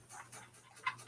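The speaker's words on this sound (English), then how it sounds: "If you guys can hear my dogs in the background" Dogs panting faintly in the background of a quiet indoor room, a few soft rhythmic breaths and a tiny whimper-like sound, distant and low.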